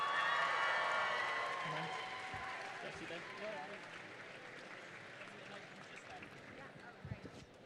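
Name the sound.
audience applause and cheers for Hayley Atwell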